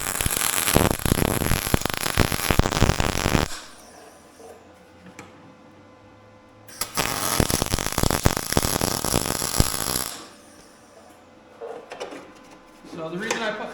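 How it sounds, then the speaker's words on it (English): Welding metal stock for a bandsaw stop: two loud bursts of crackling, buzzing arc noise, each a few seconds long, separated by quieter shop background. "And then get it welded."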